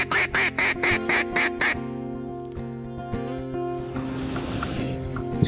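Vintage Perdew duck call, almost 100 years old, blown in a run of seven loud, evenly spaced mallard quacks close by, then a quieter stretch of low background sound while hunting in Arkansas.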